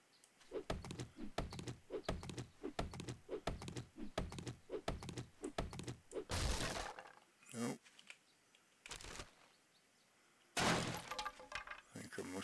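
A weapon chops at a tree stump in the survival game 7 Days to Die: quick, rhythmic thudding strikes in a steady run, broken by a few louder crashing bursts and short pauses.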